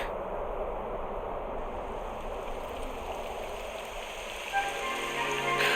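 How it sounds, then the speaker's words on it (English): Rain falls steadily in Dragon Quest XI S, a soft continuous hiss of drops on surfaces with a faint gurgle of water, quiet and alone, with a brief bump and brighter tones near the end. "It would have to go and start raining, wouldn't it?"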